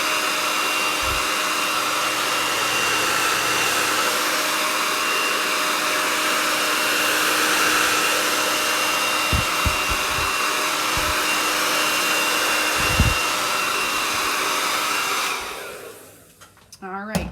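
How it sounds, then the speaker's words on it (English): A craft heat-tool dryer blowing cool air over chalk couture work, a loud constant whooshing hum with a few soft bumps that switches off near the end. "I'm going to give it a once over with my cool dryer with some cool air."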